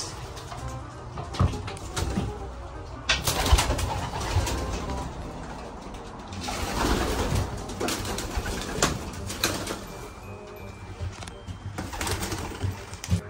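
Racing pigeons coo and shuffle in a loft, with overlapping low coos, wing flutters and knocking sounds spread across the scene at moderate distance.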